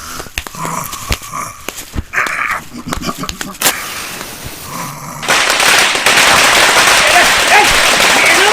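Firecrackers go off at a local street gathering awaiting a minister, with loud sharp cracks bursting irregularly over crowd noise and voices, then giving way to a dense, continuous crackling roar.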